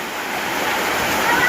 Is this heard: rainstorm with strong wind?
yes